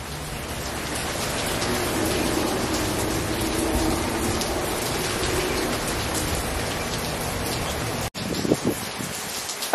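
Rain falls steadily on a surface, a dense close patter that stays even and continuous, briefly cut off near the end before resuming with a few louder drops.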